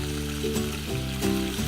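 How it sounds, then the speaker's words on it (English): Oysters fry in hot oil at a tailgate with a steady, close sizzle and crackle. A low tonal hum runs underneath. "People will be out on their tailgate frying up seafood"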